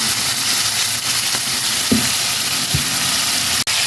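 Mixed vegetables with light soy sauce, pepper and oyster sauce sizzle steadily in a hot pan for a Filipino ginisang gulay, a continuous close frying hiss broken by a few soft scrapes and taps of stirring.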